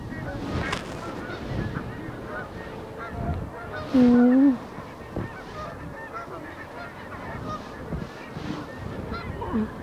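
Ducks being fed bread at a pond outdoors let out a single loud nasal honk near the middle, with fainter quacks and wind noise around it and some distant talk.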